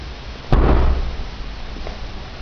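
A motorized car trunk lock driven by an original Tofaş door-lock motor releases with one sharp clunk, followed by a short whirring rush that fades to a low hum, close and fairly loud with no talk.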